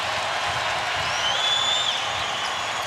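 Basketball arena crowd cheering steadily at a Rockets–Lakers playoff game in Los Angeles, a loud continuous roar with a whistle-like tone rising briefly in the middle.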